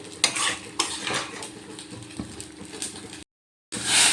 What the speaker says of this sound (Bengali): আবারও আমি ভালো করে একটু মশলার সাথে এঁচোড়গুলোকে মিশিয়ে নিচ্ছি